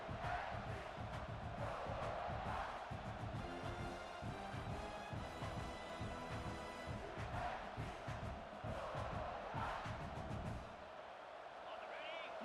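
Stadium crowd noise in the EA Sports College Football 26 video game, a constant roar with rising swells of cheering and chanting, fairly quiet overall, with commentary-like voices at times.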